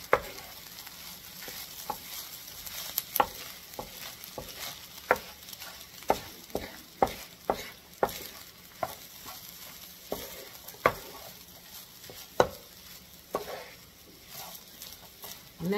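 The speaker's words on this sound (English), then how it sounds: "I'm going to add all my peppers in here. I'm going to combine everything together." Chopped peppers stirred and combined in a sizzling pan for dirty rice, a soft continuous fry under repeated scraping clacks of the utensil, close and steady with no talking.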